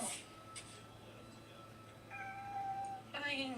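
A pet cat named Maple meows several times indoors, the calls clear and moderately close, with a person's voice talking around them.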